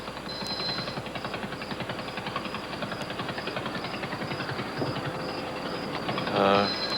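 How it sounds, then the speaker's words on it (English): A simulated pulsar from supernova SN 1987A, rendered as a steady rapid pulsing drone with dense regular clicks running throughout, fairly loud and alone, with a brief brighter burst near the end. "The pulsar in SN 1987A might sound like this"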